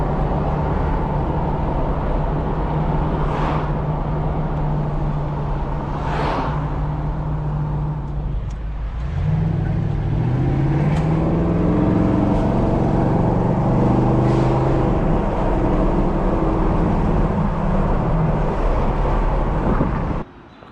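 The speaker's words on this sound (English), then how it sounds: "I feel like the car just runs better, smoother" An Oldsmobile 442 that sat outside for nine years, recently given carburetor work, runs and drives: a steady, loud engine rumble that shifts partway through into rising revs, continuous with no talking.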